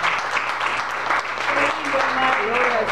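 A church congregation applauds in a sustained burst of clapping, loud and close, with voices and faint tonal music mixed in beneath the applause.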